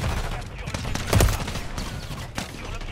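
Rapid turret gunfire rattles through a French first-person shooter match on the Shipment map, a dense burst peaking near the middle over steady game noise, with a voice talking in the background.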